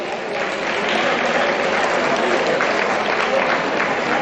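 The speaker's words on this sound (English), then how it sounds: "Let's give them a round of applause." Dinner audience at a hotel banquet hall awards dinner gives a loud, steady round of applause, dense clapping filling the room throughout.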